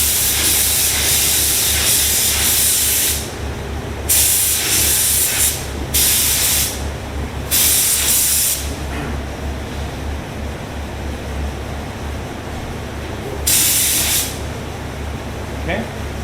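A spray gun laying toner onto wooden door faces gives loud, steady hissing bursts of several seconds each, separated by short pauses under a constant background hum.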